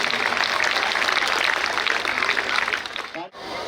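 An audience at a school annual function claps in a sustained, dense wave of applause welcoming a guest, loud and continuous before dropping off abruptly near the end.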